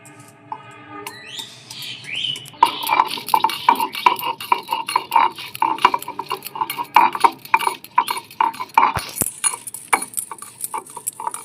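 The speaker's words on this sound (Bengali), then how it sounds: "আদা রসুনটা আমি বেটে নিচ্ছি" Ginger and garlic being ground into a paste: rhythmic scraping and clinking strokes, close and repeated, starting after a short quieter lead-in.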